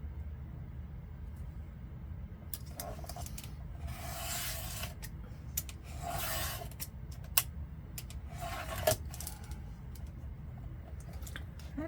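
Paper is trimmed for a slow-stitch junk journal, heard as a few soft, separate scraping strokes that stay faint over a steady low background hum, with no one speaking.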